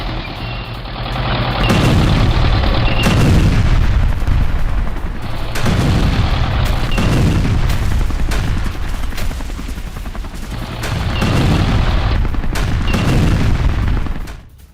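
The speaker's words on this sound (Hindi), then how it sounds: "रूसी ठिकानों पर आमने सामने फायरिंग" Sustained heavy gunfire during fighting near Kharkiv in the Russia-Ukraine war, loud, continuous and rumbling, with booming bursts rising and falling over several seconds and no speech.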